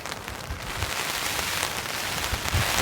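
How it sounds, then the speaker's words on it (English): Heavy rain pattering on a tent while camping in a storm, a steady close hiss of drops with scattered louder taps and no voices. "Here comes the rain."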